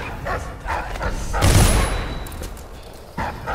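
A guard dog in the stealth video game Dishonored barks and yips in short bursts near a kennel, close and loud, mixed with game effects and a noisy swell in the middle.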